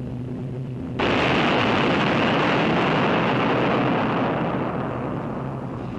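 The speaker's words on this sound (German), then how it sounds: "Es ist eine gewaltige Explosion hier in der Swine zwischen den Inseln Usedom und Wolin" A sudden massive roar erupts after a second of quiet rumble as a WWII bomb is detonated in the water of the Swine strait between Usedom and Wolin, a broad sustained blast and rushing wash that slowly fades, with no voices.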